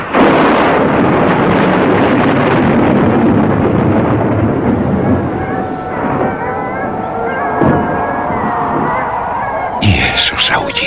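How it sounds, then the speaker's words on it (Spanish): Thunderstorm effect in a Spanish Dracula audio drama: a heavy, loud rumbling roar of thunder that gradually fades, followed by a sharp crack near the end, with a voice speaking over it. "Y volvió la tormenta."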